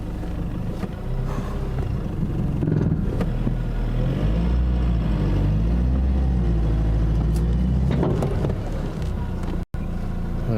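A stuck car's engine strains and bogs down under load while its clutch burns, a loud continuous low rumble close by with wind buffeting throughout and a brief dropout near the end.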